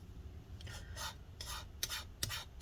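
Short scraping strokes work adhesive goop out from inside a 2016 MacBook Pro A1706 during a battery and trackpad repair, about half a dozen quiet raspy rubs in an uneven rhythm with no talk.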